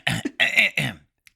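A voice imitates an exaggerated throat clearing, three gravelly, rasping bursts in quick succession with a brief catch between, then a tiny click after a pause.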